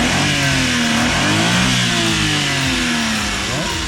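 A Suzuki Every Wagon DA64W 4x4 manual van's three-cylinder engine revs up close by, the pitch climbing and falling in a couple of smooth sweeps over a steady idle.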